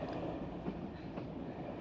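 A steady, rumbling train on the rails with a dense low roar, continuous and fairly close, with no voices.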